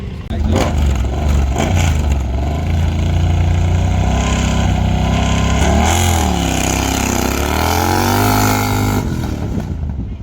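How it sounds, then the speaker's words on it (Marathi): A Maruti Suzuki Zen car at a Lonavala valley-run racing event, its loud, close engine droning and rising in revs continuously, with someone talking over it. "ती गाडी आलेली आहे मारुती सुझुकी झेन."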